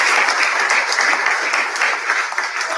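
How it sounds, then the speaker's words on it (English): Crowd clapping at a party's presidential primaries in Abuja, Nigeria, a loud dense wash of applause that holds steady from start to finish with no pauses. "So please, one more clap for Omoyele."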